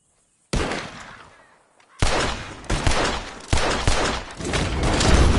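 Several heavy gunshots fired at birds taking flight in Red Dead Redemption 2, loud booming blasts in quick succession with long decaying tails, the first alone and the rest overlapping densely.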